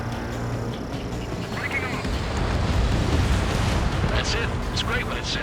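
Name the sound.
missile launched and exploding in video game Ace Combat 7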